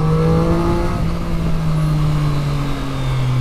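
A 2020 Triumph Street Triple RS motorcycle engine revs hard and loud while the bike lifts into a wheelie, its pitch climbing and sliding over a steady, close roar.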